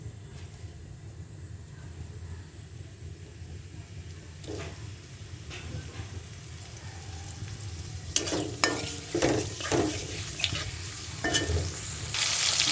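Onion and chili frying in oil with baim fish for a chorchori, a close steady sizzle that grows louder and crackly partway through as pieces hit the pan, with stirring clatter.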